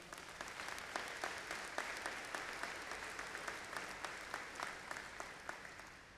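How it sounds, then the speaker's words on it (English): Applause at a university convocation ceremony, a sustained crowd of many hands clapping steadily in a large hall, moderately distant and even throughout. "Give them another round of applause."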